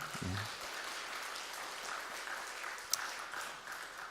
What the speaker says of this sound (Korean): 우리 그들을 위해서도 한번 박수 한번 칠까요?